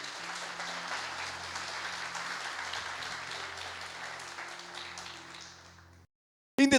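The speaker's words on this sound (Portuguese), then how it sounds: "Aplauda Jesus." Church congregation applauding during a sermon, a broad sustained wash of clapping under a low organ-like hum that fades out before a brief burst of another sound at the very end.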